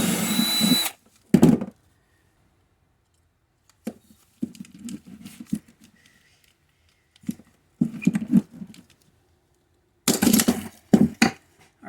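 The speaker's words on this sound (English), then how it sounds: "I may just have to drill a new hole in there, put a rivet in the middle" A power drill cuts a new rivet hole in a Studebaker Hawk car door in several short, separate bursts, each lasting about a second, with quiet pauses in between.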